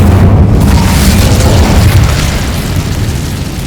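Incendio fire spell cast in Hogwarts Legacy, a loud booming blast that fades out over a few seconds with no talking over it.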